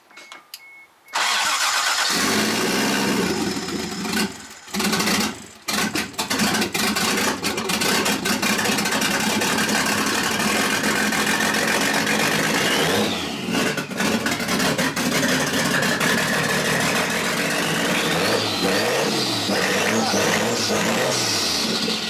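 Rebuilt Toyota 7MGTE inline-six turning over on its first start, cranking and then catching into a loud, rough idle that runs steadily with occasional revs, close up, with voices talking over it.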